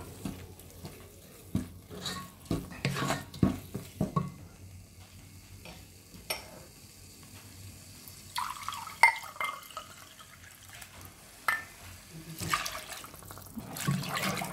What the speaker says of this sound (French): je vais arroser, comme je vous ai dit, avec 2 fois la quantité du boulgour